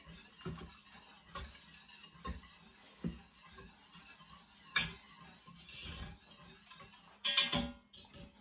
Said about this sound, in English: You can stir together, whisk together the sauce and the barbecue sauce right now